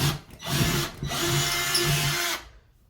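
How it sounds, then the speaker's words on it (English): A power drill drilling into a wall for a shelf anchor whines loudly and steadily for about two seconds with a brief stutter near the start, then cuts off. "we're gonna have to go through and drill in here just to get the anchor in"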